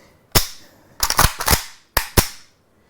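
Metallic clacks from the safety lever being worked on a Pioneer Arms AKM rifle: five or six sharp, close clicks in irregular pairs, loud and crisp with no talk over them.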